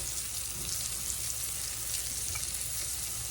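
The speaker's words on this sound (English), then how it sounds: "stir them around in here and let them get a little bit of saute on them" Half-moon slices of onion sauté in a hot pan, giving off a steady, even sizzle that hisses continuously with no voices over it.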